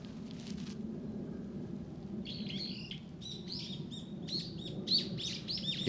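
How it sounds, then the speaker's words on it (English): Brown-eared bulbuls (hiyodori) call near bamboo in Japan, repeated bright, shrill chirps that carry clearly over a low steady background rumble, with no talking. "Those are hiodori. I don't know what that is in English. I just know the sound, and the name is hiodori."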